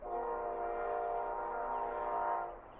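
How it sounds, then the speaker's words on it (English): A train horn sounds loud and steady for nearly three seconds, with layered tones that hold and then drop off as the train passes, heard outdoors where birds are being photographed. "There's a train."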